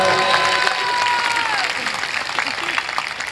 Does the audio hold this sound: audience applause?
yes